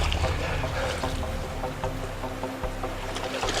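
River water rushing steadily around an improvised raft drifting down a channel, a continuous close broadband wash with small splashes and some wind buffeting, no talk.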